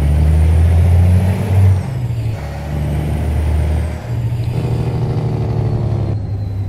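Truck engine in American Truck Simulator, a loud, steady low diesel drone that shifts pitch as gears change, with a brief hiss like an air brake partway through.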